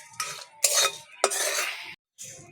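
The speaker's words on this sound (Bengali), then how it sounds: "এটা গোটা জিরে গোটা গরম মশলা দুটো শুকনো লঙ্কা শুকনো খোলাই ভেজে নিচ্ছি" Whole cumin, whole garam masala and two dried red chilies dry-roast in an empty pan, heard as a few short bursts of spatula scraping and rattling, separated by brief pauses.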